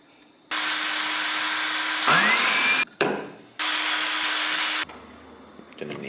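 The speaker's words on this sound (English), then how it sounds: "I'm just gonna drill holes in this piece of MDF" A power drill whines loudly drilling holes in MDF in two long bursts, pausing and spinning down briefly between them, close by.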